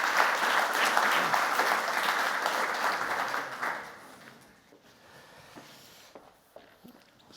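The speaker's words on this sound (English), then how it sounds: "Give them a round of applause as well." Audience applause at a lecture event as a panel walks onto the stage, a dense round of clapping for about four seconds that fades out into quieter footsteps and small room noises.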